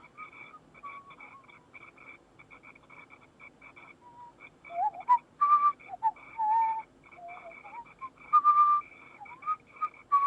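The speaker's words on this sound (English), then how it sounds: "You can now hear a person whistling." Person whistling in the video game Frequency Missing, a series of short whistled pitch glides and notes that come and go over a steady low electronic hum, growing louder and more frequent in the second half.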